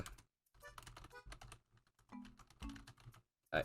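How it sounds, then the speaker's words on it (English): Typing on a computer keyboard, quick irregular bursts of close key clicks with short pauses between, heard alone in a quiet room. "Typing."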